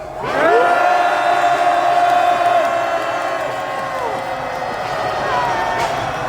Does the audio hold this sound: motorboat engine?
no